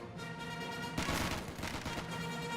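Gunfire from an assault section in Company of Heroes 2, a burst of rapid rattling shots starting abruptly partway through, moderately loud against a steady battle din.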